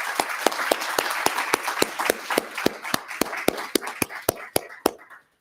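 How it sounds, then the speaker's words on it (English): A press conference audience applauds its leaders, with about twenty sharp, evenly spaced claps in steady rhythm over a soft crowd wash, fairly close and moderately loud, the clapping ending abruptly. "So I'm going to ask that we please extend an extra round of applause for our leaders"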